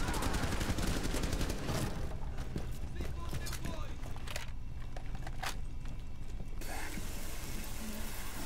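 Gunfire in the tactical shooter Rainbow Six Siege, sharp repeated shots crackling through a dense, loud game mix with voices talking over it.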